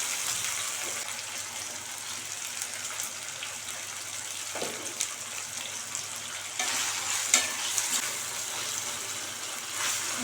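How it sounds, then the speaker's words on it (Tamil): Tomatoes frying in a pan with salt for a tamarind kulambu with karunai kizhangu (yam), a steady close sizzle and crackle running throughout with small stirring bumps, no talking. "தக்காளி நல்லா வதக்கி விட்டுக்கோங்க"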